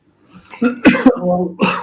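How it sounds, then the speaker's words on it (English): Several harsh, close coughs in quick succession, with short breaths and a throat-clearing rasp between them. "I've got a right tickly cough."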